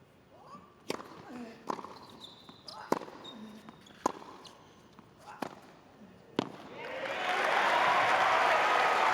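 The crowd at the 2021 Australian Open in Melbourne Park, at the third-round match between Kyrgios and Thiem, swells into loud, sustained cheering and applause after several sharp ball strikes echo around the court.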